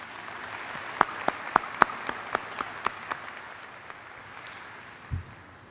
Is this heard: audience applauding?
yes